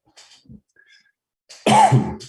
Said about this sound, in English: apologies for my cough